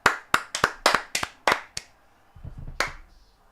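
Sharp hand claps ring out in a quick run of about seven, pause, then a single clap follows after a low muffled thud.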